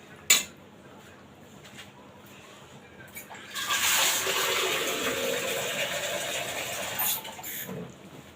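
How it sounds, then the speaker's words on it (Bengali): Water pours into a pot of beef curry, a steady splashing gush lasting several seconds after a sharp clink and quieter kitchen clatter, close by. "আর একটু পানি দিতে হবে।"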